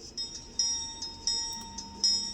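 A small electronic bell from a sound decoder in an N scale Kato P42 model locomotive rings in a steady repeating pattern, several clear dings about every half second, close and moderately loud.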